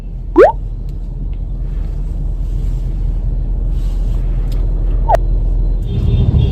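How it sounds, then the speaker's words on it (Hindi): A train rolls past a level crossing with road traffic waiting, making a steady low rumble throughout, broken by a couple of short high squeaks. "तो अभी देखिए आगे ट्रेन जा रही है"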